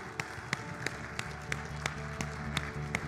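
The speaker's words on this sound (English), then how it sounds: "Give the Lord a hand clap of praise this morning" A church congregation claps together in praise, sharp claps landing on a steady beat about three times a second over low, sustained music, fairly quiet overall.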